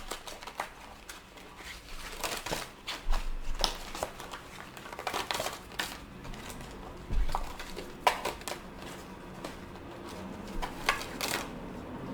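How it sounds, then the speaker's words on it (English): Tea leaf oracle cards are shuffled by hand in bursts of soft crinkly riffling and flicking, with quiet pauses between the handling sounds. "so I will shuffle them, mix them in the back, and then pull a few"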